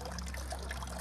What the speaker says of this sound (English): Get that water drain down in.